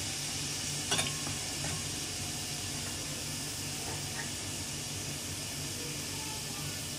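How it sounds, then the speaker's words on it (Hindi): Cumin seeds and a bay leaf frying in hot oil in a pan, with a steady, even sizzle throughout and a couple of faint clicks near the start. "एक पैन में ऑयल ले लें, थोड़ा सा उसके अंदर जीरा डालें।"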